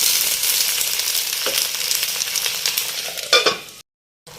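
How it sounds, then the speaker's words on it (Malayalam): Sliced onion and potato capsicum curry pieces are stirred in a sizzling pan, with steady loud frying under close scraping stirs and a few clanks from the utensil before a short break, and no talking. "ഇതിലേക്ക് നമ്മൾ അരിഞ്ഞു വെച്ചിരിക്കുന്ന സവോളയും ബാക്കി കഷ്ണം. നന്നായിട്ട് ഇളക്കി ഒന്ന് യോജിപ്പിച്ചിട്ട് മൂടി വെച്ച് വേവിക്കാം."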